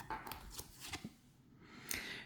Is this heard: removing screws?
no